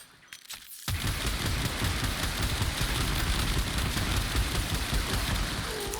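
Continuous rapid fire from an automatic shotgun in the game Warframe, with explosions, forming a dense, loud barrage that starts abruptly after a brief pause and keeps going without a break.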